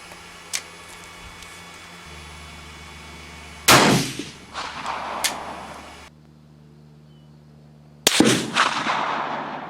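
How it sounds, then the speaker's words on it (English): Two sharp rifle shots from a Steyr crack outdoors during warm-up, each with a short ringing decay, several seconds apart, with a faint pop earlier and low background hiss. "those are my warm-up shots for the Steyr"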